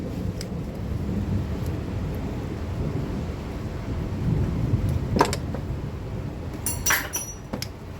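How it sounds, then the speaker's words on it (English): Thunder during a thunderstorm outside a garage where a Chevy/GMC 2.4 engine is being built, a continuous low rumble with steady rain and a few sharp clinks of metal or glass nearby. "It's been thundering"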